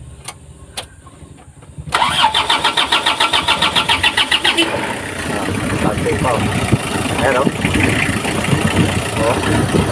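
A misfiring, smoky Mazda Bongo engine cranks with rapid rhythmic chugging for a few seconds, then catches and settles into a loud, rough idle, with faint voices in the background.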